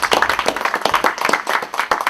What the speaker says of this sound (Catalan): Així que un aplaudiment, sisplau.